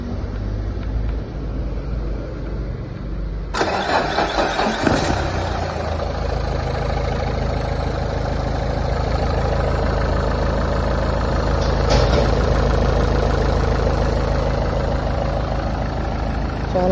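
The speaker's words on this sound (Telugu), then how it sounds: "చాలా అంటే చాలా స్మూత్గా ఉందండి ఇంజిన్." A 2014 Nissan Sunny XL diesel car engine cranks and catches near the four-second mark, then settles into a steady, close, continuous idle rumble that runs alone to the end.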